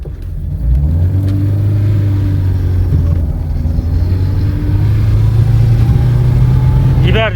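A methane-powered car's engine runs loud and close with a steady low rumble, holding an even idle throughout with no pauses.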